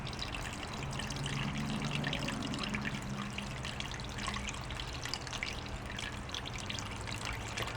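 Liquid, drained coolant from a 1967 Plymouth full of solder chips, pours steadily through a paint filter into a bucket, making a continuous close trickling splash with no pauses.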